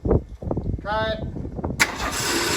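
Starter cranking on a 1978 Ford F-150 that sat unused for 28 years, a brief churning burst under voices and then a sharper loud surge of noise toward the end.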